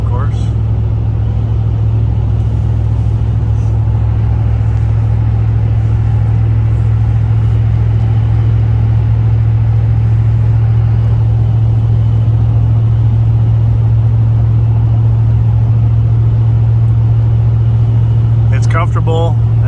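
Pickup truck fitted with a Rough Country exhaust cruising on a freeway, giving a steady, continuous low engine drone with road rumble throughout, no distinct revs, recorded from inside the cab.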